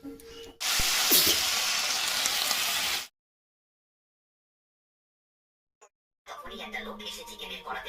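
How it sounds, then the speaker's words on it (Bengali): Bottle gourd hitting hot oil gives a loud, close burst of hissing sizzle lasting a few seconds, then a stretch of silence, then softer sound with a voice. "লাউটা ভাজবো।"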